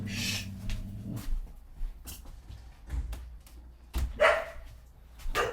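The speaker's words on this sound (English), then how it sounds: "Sorry about that, that was my dog." A pet dog barking indoors in a few short, sharp bursts spread over several seconds, fairly close, with no talk over it.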